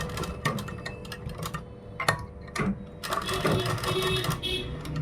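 A sewing machine stitches a kurta in short start-stop bursts of rapid mechanical chatter, close and fairly loud, with brief pauses between runs and a longer steady run near the end.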